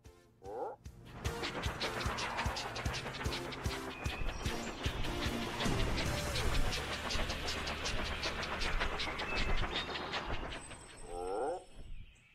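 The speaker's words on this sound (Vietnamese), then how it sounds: "Teddy đã biến Troy thành một xe lửa không gian" Animated space train in a children's cartoon running along with rhythmic clattering and engine hum, bursts of bright musical tones and sound effects layered over it, loud and continuous.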